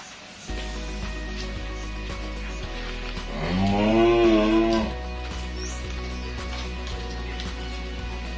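A single cow at a livestock pen lets out one long, clear moo, close and fairly loud, over a steady low background hum with scattered faint clatter.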